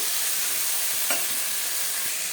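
A spice paste with a little water fries in a pan for a fish curry, giving a steady loud hiss of sizzling with a faint scrape of stirring midway.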